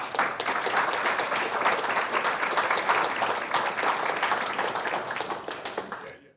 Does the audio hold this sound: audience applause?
yes